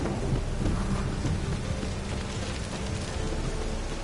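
Rain pours steadily in The Witcher 3 on PS4 while rolling thunder rumbles low underneath, a dense continuous storm wash with no voices.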